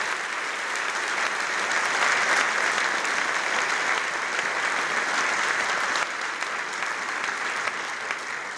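An audience at a university discussion event applauds to welcome Dean Margaret Raymond, a steady, dense roomful of clapping that holds at an even level throughout.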